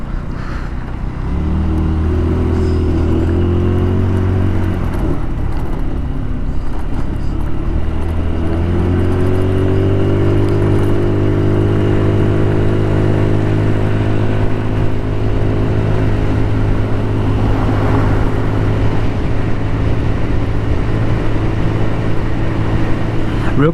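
An Icebear Hawkeye 150cc scooter engine drones steadily while riding, its pitch rising and settling through acceleration over constant road and wind rumble, with no talking.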